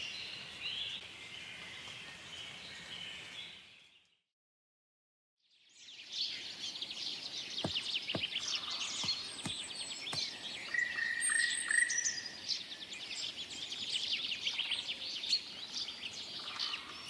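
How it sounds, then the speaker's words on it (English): Several species of birds sing and chirp through a densely populated forest, a steady chorus of calls and trills with brief sharp notes, faint and spread out, pausing briefly before resuming. "There are a lot of birds of different species."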